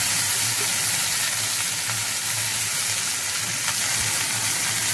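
Okra and potatoes fry in hot oil while being stirred, producing a loud, continuous close-up sizzle with only faint stirring sounds beneath it.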